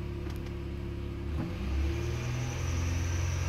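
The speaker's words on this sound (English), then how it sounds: "I'll try giving gas again." A car with a P1659 fault code idles with a low, steady engine rumble that swells briefly as the gas pedal is pressed, then settles back to a sluggish drone without much climb in pitch.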